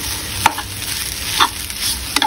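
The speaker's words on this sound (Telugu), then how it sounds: "ఇది ఒక్కసారి మనం మళ్ళీ సాటే చేసుకుందాం" Egg pasta with red chilli being sautéed in a pan, a continuous sizzle broken by a few scraping stirs of the utensil, close and fairly loud, with no speech.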